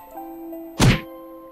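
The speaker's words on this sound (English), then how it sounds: "She fiercely strikes the back of my head with her fan" A single blunt thud as a paper fan strikes the back of someone's head in the visual novel game Aselia the Eternal, a short sharp impact over a quiet steady background hum.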